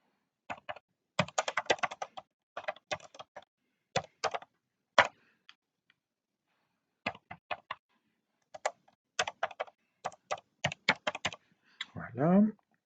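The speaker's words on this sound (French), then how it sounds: "Donc je tape ce qui m'est demandé." Bursts of computer keyboard typing, clustered key clicks in quick runs separated by short pauses, fairly close and crisp, with a brief louder sound at the very end.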